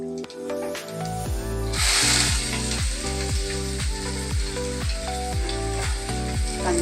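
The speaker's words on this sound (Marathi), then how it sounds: "कांदा चांगला परतवून घेणार आहे मी त्या तेलामध्ये, फोडणीमध्ये." Onion added to hot oil with cumin for a tadka sizzles and fries loudly. The crackle rises sharply after a couple of seconds and holds steady, with a regular clink of stirring running through it.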